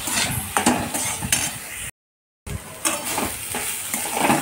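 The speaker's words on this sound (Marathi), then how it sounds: "आता हे फ्राय झालं, याच्यात टाकूया आपण लाया" Onions and puffed rice stirred and frying in a hot pan for a Marathwada sushila dish, with crackling sizzle and repeated scrapes and clinks of a spoon against metal, close and busy, briefly cut to silence midway.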